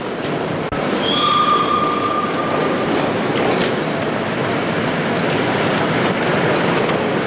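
A train rumbles steadily and loudly through Newcastle railway station, with a brief high wheel squeal early on over the continuous rolling noise.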